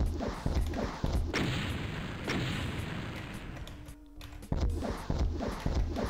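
Rocket launcher blasts in the video game Final Doom boom repeatedly in a fast, heavy barrage, loud and close, with a brief lull near the middle before the explosions resume.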